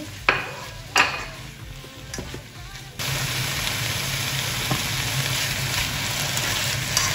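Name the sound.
meat and sliced peppers sautéing in a pan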